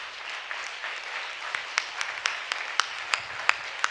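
Congregation at a Sunday church service applauding, a thin patter of scattered hand claps with a few sharper individual claps standing out, steady for several seconds without talk.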